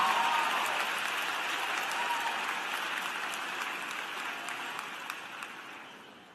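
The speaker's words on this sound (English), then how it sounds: "Please give him a round of applause." A crowd at a university graduation commencement claps steadily, a dense wash of applause that gradually fades out.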